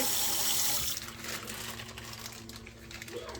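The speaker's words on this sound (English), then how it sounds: "I'm just gonna wash it with some lime. Rub it all over." Ham being washed with lime under a running kitchen tap: a steady gush of water that is strongest at first, then softens into splashing and rubbing, with no talk.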